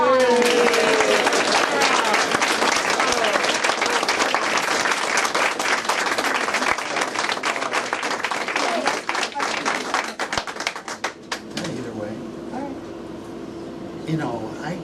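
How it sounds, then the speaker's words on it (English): An audience gives loud, sustained applause for the 2015 Bay Village Citizens of the Year. The clapping fills the room for about eleven seconds, then thins to scattered claps as the noise settles. "So let's give Eric and Cynthia a round of applause."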